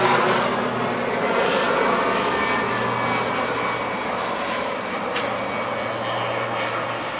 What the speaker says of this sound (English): a straight airplane came flying.